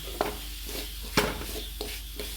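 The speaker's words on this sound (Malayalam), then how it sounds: "നന്നായിട്ടൊന്ന് വഴറ്റി കൊടുക്കാം" Chili powder and garam masala are stirred in a hot pan for pasta, a steady soft sizzle with a few sharp scrapes of the spoon against the pan, close up and no voices.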